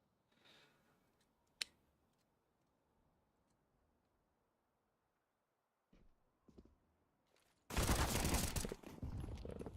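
Counter-Strike: Global Offensive gunfire in a competitive match comes as a few sparse, sharp shots early, then a loud burst of rapid automatic fire near the end, with quiet clicks and footsteps between.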